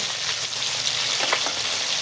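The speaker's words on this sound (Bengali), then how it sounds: "মাছগুলো ভাজি আস্তে আস্তে করে জানো" Steady, dense sizzling of several fish frying together in hot oil, close and continuous with small crackles, no voices.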